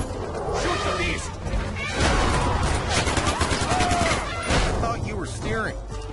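Heavy gunfire in the Far Cry 4 video game, dense bursts and crashes over a steady loud roar of engine and action noise, with voices talking through it.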